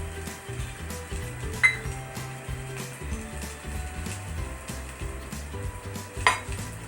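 Onion and spices sizzle gently in a pan as egg curry with potato is sautéed, with a steady soft frying hiss and occasional sharp clinks of a utensil against the pan.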